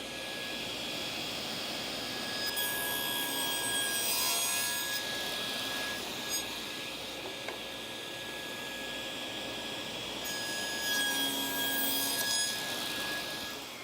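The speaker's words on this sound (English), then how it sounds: "There, we've got a nice groove in the end of that workpiece, made it safely with our jig" Table saw cutting a slot in the end of a wooden workpiece held in a jig, a steady whining hum with a high tone and rising rasps as the blade bites, no talking.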